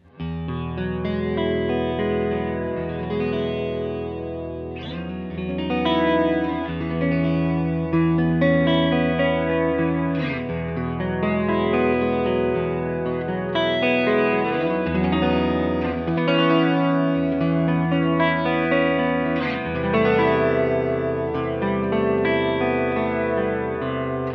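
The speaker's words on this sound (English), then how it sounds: "this is a full stereo chorus" Electric guitar chords through a Fromel Seraph stereo chorus pedal ring out with a wide, shimmering chorus effect, sustained and swirling, played alone without any talk.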